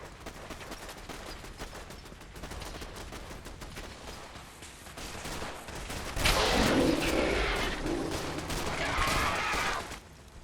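Automated turrets in Fallout 4's Ground Zero zombie apocalypse modlist fire steady rapid bursts throughout. The gunfire grows louder and denser midway and mixes with a harsher roar before easing off at the end.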